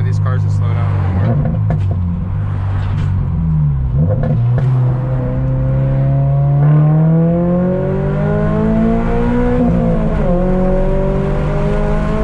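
Toyota GR86/Subaru BRZ with a free horsepower mod heard from inside while cornering, its engine note droning steadily and rising and falling in pitch as it accelerates and eases off, with the driver talking over it.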